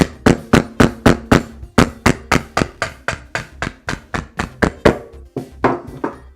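Rapid, steady hammer blows strike a hard, hollow coconut, about four per second, loud and close, with a short pause near the end.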